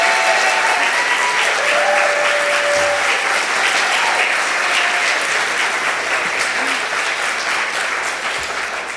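A congregation at a Shabbat service bursts into sustained, dense applause, many hands clapping steadily and evenly before tapering slightly toward the end.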